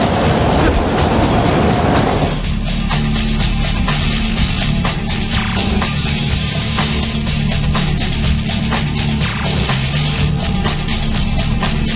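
A subway train rolls through a tunnel in the Spider-Man 2 video game, a loud rumbling roar with steady clickety-clack of wheels over rail joints, continuous and close, no voices.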